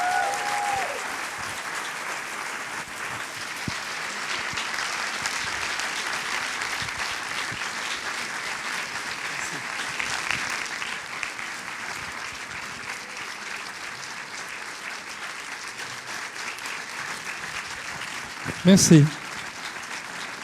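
An audience at a cinema preview applauds a director, steady sustained clapping filling the room for about twenty seconds, with a brief spoken thanks near the end.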